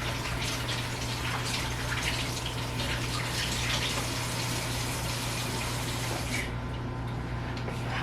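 Tap water runs in a steady, continuous gush into a kitchen sink while a roast is rinsed, close and fairly loud, with no talking over it.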